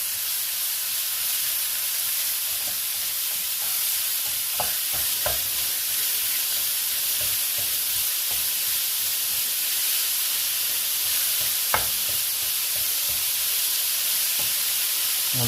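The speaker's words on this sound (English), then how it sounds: "Straight away you can hear it starting to sizzle." Close, steady sizzling and crackling of minced meat frying in a pan, with occasional stirring scrapes and pops.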